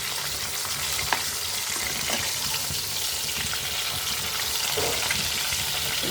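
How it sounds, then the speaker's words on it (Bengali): Hilsa fish frying in a pan at home, a steady, dense sizzle and crackle of hot oil holding evenly throughout with faint kitchen clatter underneath. "ইলিশ মাছটা ভাজি হয়ে গেলে তারপরে আমার হয়ে যায় প্রায়"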